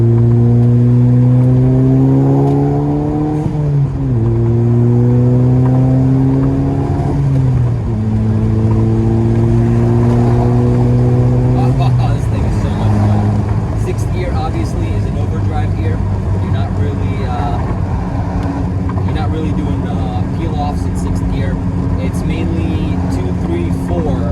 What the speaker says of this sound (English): Just listen to that turbo spool, listen.